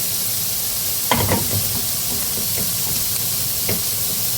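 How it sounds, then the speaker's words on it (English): Chopped onions frying in a pan for a Tex-Mex breakfast, sizzling steadily with a few clattering stirs and flips near the middle of the clip, close and fairly loud. "the onions are definitely starting to smell good right now. Give these a little flip."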